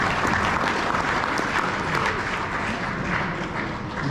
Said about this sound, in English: one more time, a round of applause for all the moms out there